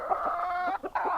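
Silkie chickens on a farm clucking close by, a short run of throaty hen calls in quick succession.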